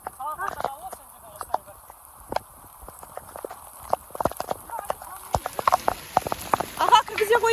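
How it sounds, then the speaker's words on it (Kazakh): Rain patters outdoors at Burabay in scattered, irregular taps and drips on surfaces, moderately close, while people talk and hooves clop intermittently. "Далада Бурабайда жаңбыр жауып кетті."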